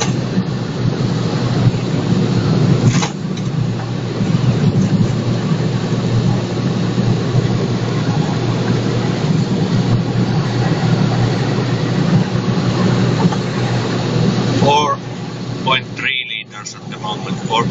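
A car cruising at about 90 km/h in the worn grooves of a road, a steady loud rumble of tyres and engine throughout, with a short disturbance near the end.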